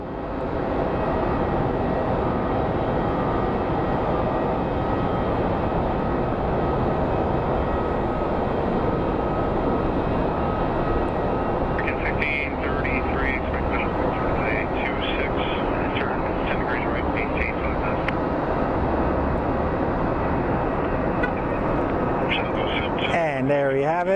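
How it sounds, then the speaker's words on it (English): An airliner lands at Phoenix Sky Harbor International Airport, its engine roar and rushing wind a loud, steady wash throughout, with talk under the noise and brief squeaky tones partway through. "And there we have it. Boom. Perfect landing."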